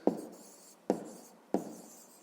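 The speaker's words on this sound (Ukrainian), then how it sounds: "пишемо відповідь і записуємо" Pen or pencil writing out the answer to a fifth-grade math exercise, three short scratchy strokes spaced evenly apart, close and quiet with no one speaking.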